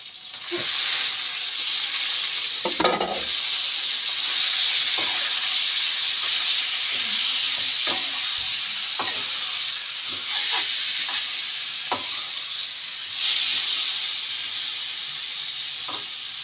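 Squid frying in a pan for dinner gives off a steady, bright hiss and sizzle throughout, with scattered pops and clinks of cooking.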